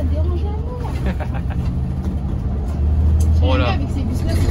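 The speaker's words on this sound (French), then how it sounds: "Avec ces bus-là, c'est que quand t'accélères, ils y vont vraiment." A Mercedes-Benz Citaro C2 city bus pulls away, its engine rising to a strong, steady drone heard from on board, with a rising whine toward the end and passengers talking over it.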